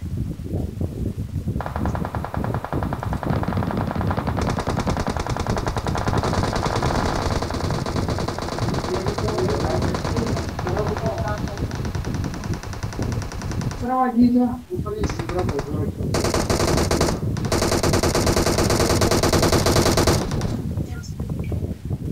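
Sustained automatic gunfire in the BGMI battle royale video game, dense rapid bursts running nearly continuously at high level, with a brief lull midway before heavy firing resumes; players talk over the game sound.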